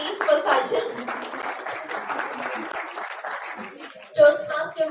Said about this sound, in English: A round of applause please for Sajil.